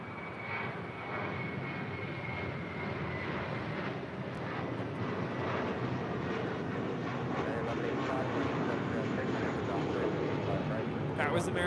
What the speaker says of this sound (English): 1541 departing to Los Cabos on an A321.